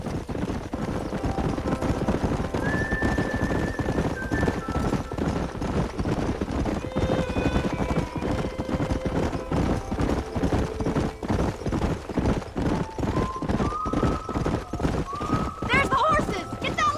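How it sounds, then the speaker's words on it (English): Wild horses in Red Dead Redemption gallop in a fast, continuous clip-clop of hooves, with occasional whinnies and neighs over a busy game mix. "There's the horses!"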